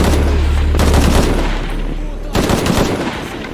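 Loud, sustained automatic gunfire in Shadow of the Tomb Raider, rapid shots in two long bursts with a brief lull between them, close and dense over a rumbling background.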